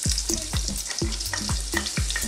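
Garlic and butter fry in a little oil in a wok, a crisp sizzle broken by repeated scraping stirs of a spatula coming about twice a second, close and busy.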